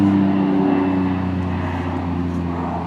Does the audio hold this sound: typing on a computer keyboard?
no